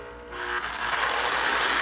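A custom Lionel 1700E model train with a Marx E7 motor runs along its track, with a rail-sounds tender adding rolling noise. A soft hum swells into a steady, moderately loud clatter.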